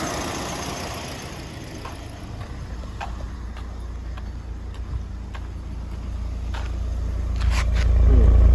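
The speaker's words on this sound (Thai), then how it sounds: "ขอเสียงท่อนิดหนึ่ง" A Mitsubishi Lancer running on CNG idles roughly while parked, with a shaking engine: a steady, close exhaust rumble with faint ticking that swells louder toward the end, with no voices.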